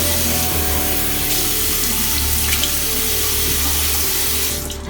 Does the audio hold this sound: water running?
yes